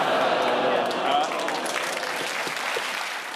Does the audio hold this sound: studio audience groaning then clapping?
yes